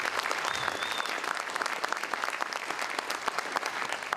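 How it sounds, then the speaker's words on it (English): Audience applause at a mayor's State of the City address, steady dense clapping from a crowd, moderately distant and sustained throughout without speech. "So give them a round of applause, you guys."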